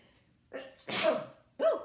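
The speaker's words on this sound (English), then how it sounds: "Hang on, I'm gonna sneeze." A single sharp sneeze with a quick inhaled buildup, followed by a short voiced exhale, close and loud with no talking.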